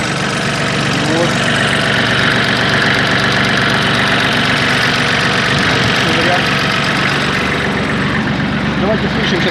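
A Mitsubishi MT1401D four-wheel-drive Japanese tractor idles steadily with a loud, even diesel rumble and slight knocking, heard up close while someone speaks over it.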